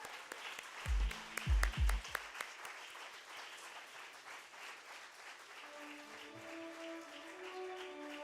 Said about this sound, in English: Can we have a big round of applause